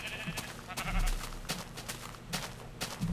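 Sheep bleating in a Minecraft-style blocky video game, with a couple of black sheep nearby; several short bleats repeat at intervals over a steady game ambience.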